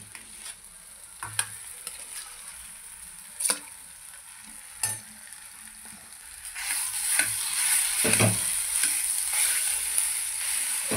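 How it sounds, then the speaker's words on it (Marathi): Mashed potatoes are stirred into fried masala in a pan for aloo paratha filling, with a spoon scraping and clacking against the pan in separate strokes over a soft sizzle that swells and grows steadier in the second half. "आता आपण त्याच्यामध्ये जे बटाटे मॅश केले होते ते टाकून देऊ."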